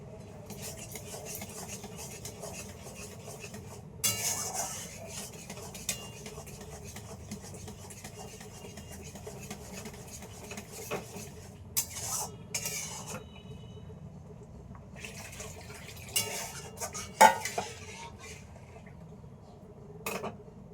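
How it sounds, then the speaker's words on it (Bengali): A metal spatula stirs and mashes soaked pea dal cooking in a pot, with intermittent scraping and rubbing strokes over a low, steady background hum. "তাই খানিকক্ষণ খুন্তি দিয়ে ঘুটে নিলাম"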